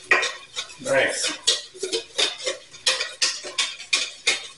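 A utensil scrapes and clinks against a pot while French garlic soup is stirred, a quick irregular rhythm of close, loud metallic strokes, with a brief spoken word.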